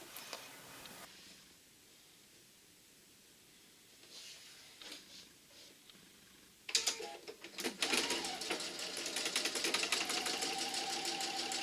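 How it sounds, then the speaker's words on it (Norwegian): A sewing machine stitches the second side seam of a two-piece top, starting with a short whir and faint handling, then running loud and steady in a continuous buzzing burst through the second half. "Og så syr jeg den andre sidesømmen, sånn at nå er faktisk belegget allerede kastet over."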